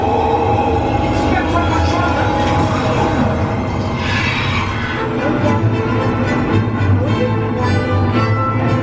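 Train ride to London, a loud continuous rumble of a moving railway carriage with rattling wheels and a constant low drone, close and enveloping.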